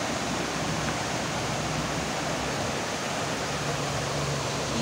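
A waterfall on the Río del Oro at Tamazulapan del Progreso, Oaxaca, roars as a steady, dense, broadband rush that stays loud and unbroken throughout, with no voices.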